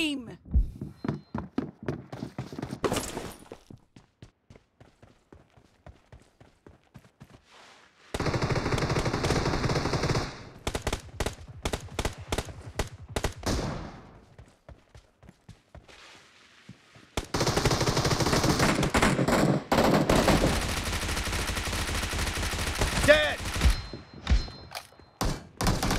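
Gunfire in the shooter PUBG / BGMI, starting with a rapid rhythmic string of close automatic shots, then long dense stretches of loud sustained firing separated by quiet gaps.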